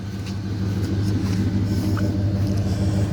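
A stock 1995 Chevy Silverado with an LT1 V8 idles steadily close by, a deep even rumble with a faint throb and no speech over it.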